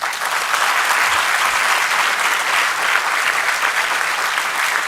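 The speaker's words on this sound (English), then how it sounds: "we would like to welcome Dr. Subramanian Swamy with a big round of applause" A large audience applauds steadily and loudly at an Indian Institute of Management Bangalore session, welcoming economist Dr. Subramanian Swamy; dense, continuous clapping fills the whole stretch without a break.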